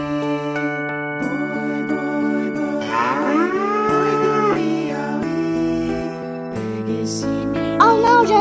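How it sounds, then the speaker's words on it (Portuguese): Cartoon black-faced ox mooing in a long, tonal lowing call over a steady musical backing in a children's animated lullaby, loud and clear with no voices. "O boi da cara preta!"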